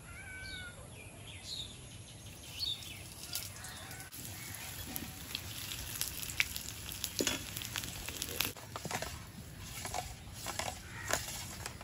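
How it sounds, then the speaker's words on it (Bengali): Mughlai paratha frying in a wok, giving a steady close sizzle through the whole stretch with scattered crackles and faint background chirps. "আর একটা বেলেছি, এবার কড়াইতে দিয়ে দেবো।"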